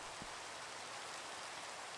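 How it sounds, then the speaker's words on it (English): Steady hiss of rain in Minecraft, a faint, even wash of falling drops with no other sounds. "Rain over here."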